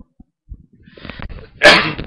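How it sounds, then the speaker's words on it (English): A man coughs once, a loud sudden burst near the end, after a stretch of quiet rustling while he commentates on a Pokemon Yellow speedrun. "You have to excuse my coughing."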